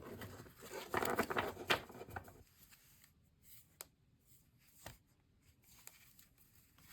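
An oracle card deck being shuffled by hand, a quick papery riffle of cards in a close, quiet room lasting a second or so, then a few soft taps and handling sounds.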